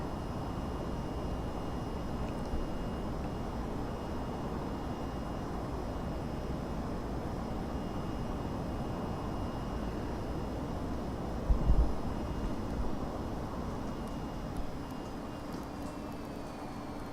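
VTOL jet engine giving vertical thrust in the VTOL VR flight game, a steady, even engine roar with faint high whines that holds throughout, with a brief thump partway through and no talk.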